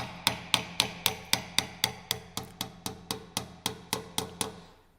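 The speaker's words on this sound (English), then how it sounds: "Now the dowel and the screw are driven into the solid background." A dowel and screw are hammered into a solid wall, about sixteen sharp, evenly spaced blows at a steady rhythm, close and clear with no talking.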